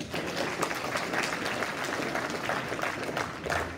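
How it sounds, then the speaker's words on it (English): Steady applause from a crowd fills the whole stretch, a dense even patter of many hands clapping without pause. "Let's give Kimberly another round of applause."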